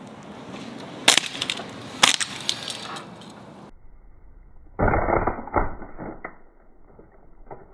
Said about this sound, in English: Hear that? Now Luigi's stuck crashing forever in hell!